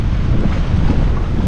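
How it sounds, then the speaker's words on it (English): Strong wind roars steadily across a microphone on a fishing boat during night bass fishing, a loud continuous buffeting rush with water sounds beneath and no talking. "the wind is blowing us"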